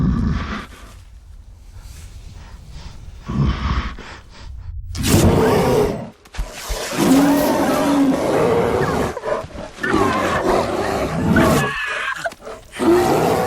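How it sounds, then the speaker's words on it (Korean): A loud, harsh bear growling and roaring rises after a quieter start, rumbling continuously with sharp gasps and breaths close by. "곰은 코앞까지 다가왔죠."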